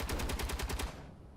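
Interior turret fire in Space Engineers strikes light half armor panels: a rapid burst of about eight evenly spaced heavy shots, loud and close, then a short fading tail.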